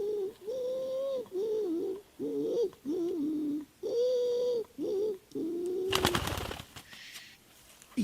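Wood pigeons cooing at a net-hunting hide in southwestern France, a repeated series of soft low hooting coos close by, ending with a rustling flutter.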